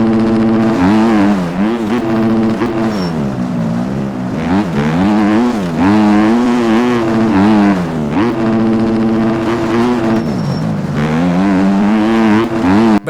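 A motocross bike engine in the racing game MX Bikes whines loudly in high gear, its pitch rising and falling as the rider shifts and throttles through a race, with no talk over it.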